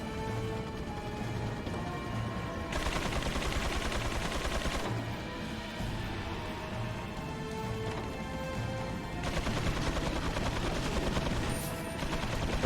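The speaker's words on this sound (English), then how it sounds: "these guys now have machine guns" Sustained machine gun fire from enemies in Resident Evil 4 (2005), steady rapid rattling bursts over a constant game soundscape, loud and close with a few short pauses.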